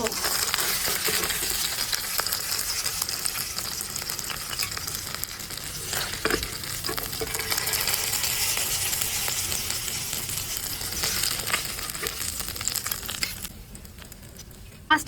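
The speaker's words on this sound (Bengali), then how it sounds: "মাছ ভাজা হয়ে গেল তো এবার নামিয়ে নেব" Pabda fish frying in hot oil, a loud continuous sizzle and crackle running throughout, easing and thinning in the last couple of seconds as the fried fish is taken off.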